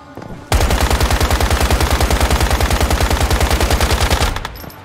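Loud, rapid automatic gunfire from a gun in the video game Once Human, a sustained burst of evenly spaced shots lasting about four seconds, then cutting off, with no talking.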